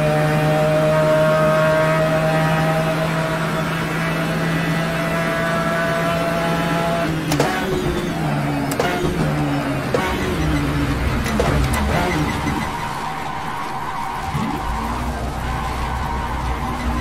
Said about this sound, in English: Essentially what we did for that is we just like got a freaking 787B engine, tossed it inside an NSX, and gave it four turbos.